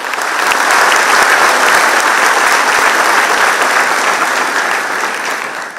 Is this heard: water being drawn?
no